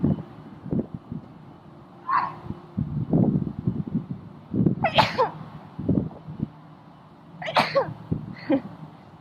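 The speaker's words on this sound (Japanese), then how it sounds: "めっちゃくしゃみ出そう。" A few short bursts, one quick sneeze-like blast followed by two sharper ones, with quiet rustling and faint noise between them, on the observation deck of Taipei Songshan Airport.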